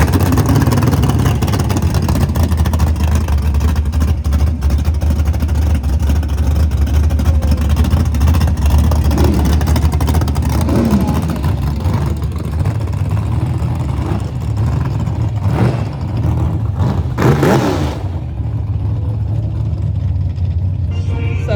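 Drag racing cars in round 1 of bracket racing at Rico Dragstrip give a loud, continuous engine roar that rises and surges as they accelerate, with sharper revving bursts toward the end.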